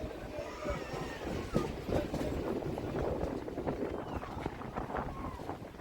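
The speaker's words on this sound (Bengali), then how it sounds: "ভায়না হল্ট ছেড়ে যাচ্ছে পরের স্টেশন বগুলা" A local train on the Ranaghat–Gede line pulls out of Bhayna halt, its rolling rumble and rhythmic wheel clatter steady and close, heard from aboard with no clear talk over it.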